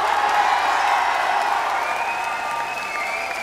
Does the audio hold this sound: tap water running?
no